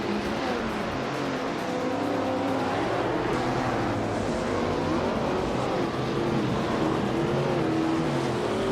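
Race cars in a racing video game drone steadily, with engine pitch rising and falling as cars jostle and overtake. The roar is constant and loud from start to finish, with no talking.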